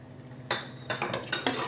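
Creamy sauce mixed in a pan for salmon, with four or five sharp clinks and scrapes of a utensil against the pan over a quiet background.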